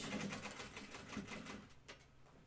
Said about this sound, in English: My machine got pushed around a lot on that one.